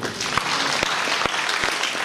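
A church congregation claps in praise at a family day service, a dense, steady burst of many hands filling the space with a few sharper accents.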